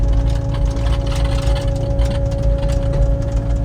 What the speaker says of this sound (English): he's away to get this tractor and trailer fired up